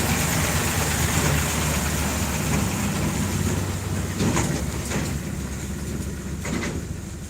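A tractor pulling a trolley rumbles past in a Pakistani village, its low engine drone steady and fairly close, with rattling clanks and knocks from the trailer as it goes by.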